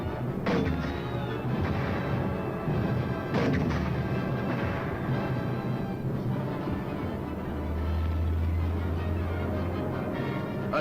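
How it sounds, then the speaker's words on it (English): Artillery guns fire in a wartime combat setting, several sharp booming blasts at irregular intervals over a constant rumbling background, with a low engine drone late on. "The command to fire is given"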